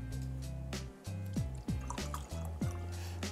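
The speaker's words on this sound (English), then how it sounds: "And pour out a couple little shotskis here?" Twelve Barrels Canadian whisky pours from a freshly uncorked bottle into small shot glasses, with a close, quiet series of glugs and trickles in short bursts.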